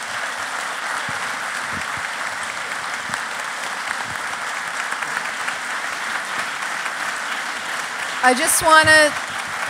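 An audience at a book talk with a novelist claps steadily for several seconds; a voice speaks briefly near the end as the applause goes on.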